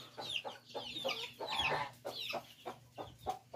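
A hen clucks in a rapid, steady string of short, close calls, with no talking.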